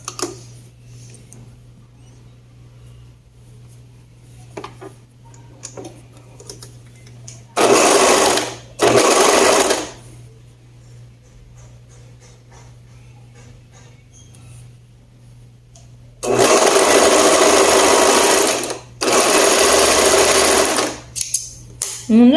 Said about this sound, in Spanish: Ahora vamos a coser las manguitas.